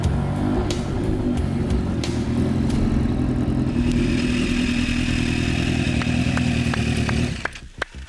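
A supercharged Kawasaki H2R sport motorcycle engine idles loudly and steadily with a deep, powerful, rough throbbing rumble, before cutting off abruptly near the end.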